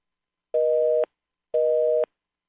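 Two evenly spaced beeps of a telephone busy signal, each about half a second long, clean and electronic against silence.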